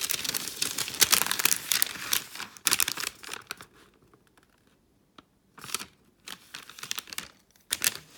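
A sheet of paper for a tezhip pattern is unfolded and creased into quarters, giving close crinkling and sliding rustles in bursts separated by short quiet pauses.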